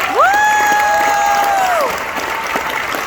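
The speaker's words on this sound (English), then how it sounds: "Give yourselves a round of applause for being here today." An audience at a business training session claps in a round of applause, with a sharp whistle-like cry rising and falling over the clapping before the noise tapers off.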